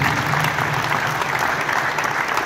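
An audience applauds the coaches at a FIBA Africa Youth Camp basketball event in Casablanca, a dense, steady wash of clapping from a large crowd that continues throughout.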